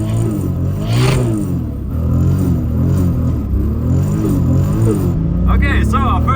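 A 1000 hp Toyota Supra MK4 with antilag and a screamer pipe revs hard in the Arctic while drifting, its loud, rising and falling engine roar steady throughout, with sharp crackling bursts near the end.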